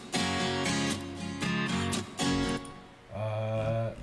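Sampled guitar from a Kontakt instrument sweeping through the same chord in bright, rhythmic strums, blended with other instrument layers in a produced track, with a sustained lower chord near the end.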